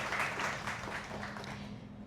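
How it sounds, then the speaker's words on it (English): Audience clapping at a networking and knowledge event, a soft, even patter of many hands heard from a distance at low volume. "Y'all clap for him one time."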